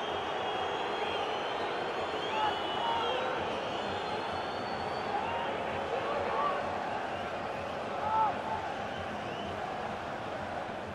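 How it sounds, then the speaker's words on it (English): Away fans in a stadium crowd in FIFA 19, a steady distant roar with faint swells of chanting and cheering, running continuously beneath commentary. "We're starting to hear the away fans"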